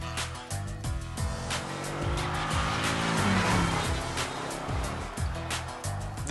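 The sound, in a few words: Jeep Cherokee SRT8 driving hard with tire squeal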